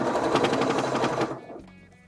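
Stitching over a previous seam while making a fabric pouch, a sewing machine rattles in a quick burst of rapid needle strikes for about a second and a half, then stops, leaving quieter handling noise.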